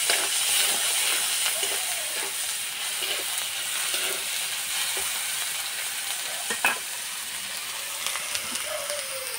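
Ginger-garlic paste with bay leaf, dried chillies and chopped tomato sizzles and hisses steadily in hot oil, a close, continuous frying sound with occasional stirring clatter and no talking.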